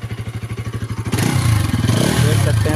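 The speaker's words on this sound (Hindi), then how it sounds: "बजाज के द्वारा जो NS200 जो पहले से आता है, यानी कंपनी फिटेड आता है, उसका एग्जॉस्ट साउंड सुनाते हैं।" A stock factory-fitted exhaust on a Bajaj NS200 BS7 motorcycle idles with steady, even pulses, then the engine is revved hard and roars loudly and continuously until the end, close by with no talking.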